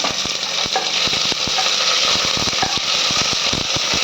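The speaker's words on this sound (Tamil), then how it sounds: "வெங்காயம் போட்டுக்கலாம் ஒரு ரெண்டு வெங்காயம் எடுத்துருக்கேன் ஒரு மூணு பச்சை மிளகா" Sliced onions and green chillies sizzle and crackle steadily in hot oil for a mushroom biryani, with occasional stirring clicks at close range throughout.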